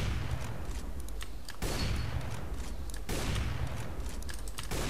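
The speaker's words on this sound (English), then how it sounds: "that took me a long time to shoot just 4 bullets, right?" Gunfire from an AWP sniper rifle in the CS:GO video game: a few loud, sharp shots spaced well apart, each trailing into a dense, noisy wash over continuous background game sound.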